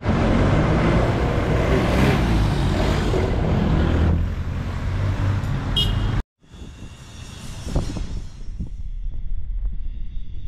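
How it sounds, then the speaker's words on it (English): Fancy cars drive along a busy city street in Makati, Philippines, as a loud, steady wash of traffic that breaks off abruptly and resumes as quieter passing vehicle noise. "There are fancy cars driving by."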